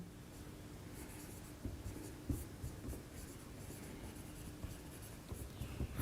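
Hand-writing of an equation with a pen on paper, soft continuous scratching strokes with a few light taps, close and quiet, with no talking.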